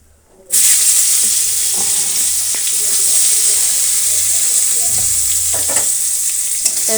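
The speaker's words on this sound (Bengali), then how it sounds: "এই বেগুনটুকু দিয়ে একটু সাঁতলিয়ে দিচ্ছি" Thin eggplant slices sizzle and hiss steadily in hot oil with black cumin, a bright continuous frying sound that starts abruptly as they hit the pan, with occasional soft stirring clicks.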